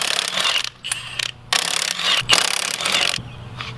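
Socket wrench working a lug on a Polaris RZR Turbo S side-by-side wheel: several bursts of rapid rattling ratchet clicks separated by short pauses, close and fairly loud.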